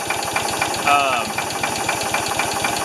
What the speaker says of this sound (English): that's probably idling about as much as you'd want, or as low as you'd want